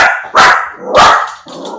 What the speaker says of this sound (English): Ziggy's barking.